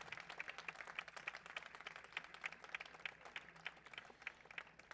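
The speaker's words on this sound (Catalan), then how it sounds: "Tornem a fer un fort aplaudiment per la geganta de la Festa per a tothom." Festival audience applauding a giant figure named Frida at the Festa per a Tothom, a steady dense patter of many hands clapping, moderately distant and even throughout.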